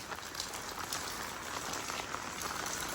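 Heavy rain pours fast in Punjab, a dense, even hiss of water falling and drumming on surfaces, heard steadily at a moderate distance with no voices.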